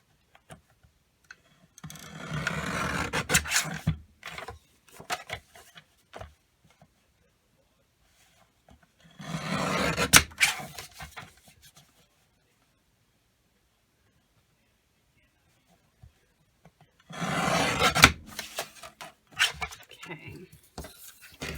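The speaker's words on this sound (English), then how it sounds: "So I'm going to trim this up a little bit" Paper pieces for a 2021 planner being trimmed in three separate bursts of crisp snipping and rustling, each lasting a few seconds with quiet gaps between, close and moderately soft.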